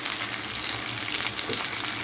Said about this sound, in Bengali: আস্তে আস্তে আস্তে আস্তে করে মাছটা এভাবে ফ্রাই করতে হবে।